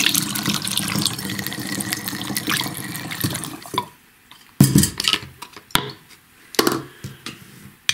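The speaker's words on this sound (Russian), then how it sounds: "В бутылку на 2/3 объема наливаем теплую кипяченую воду." Warm boiled water gurgles and splashes steadily into a bottle for several seconds, then stops, followed by scattered clinks and knocks of glass or plastic.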